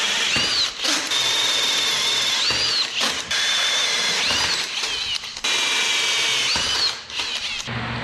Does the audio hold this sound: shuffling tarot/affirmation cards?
no